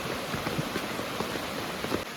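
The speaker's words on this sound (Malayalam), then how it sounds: "പൊരിഞ്ഞ മഴ രക്ഷയില്ല." Dense, steady hiss of heavy rain pouring down, a constant wash of patter with scattered louder drops and no voices.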